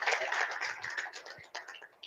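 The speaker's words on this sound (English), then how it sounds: "I would like all of you to please give applause for that." A conference audience claps in a brief, fairly faint patter of many hands, thinning toward the end with a few scattered claps.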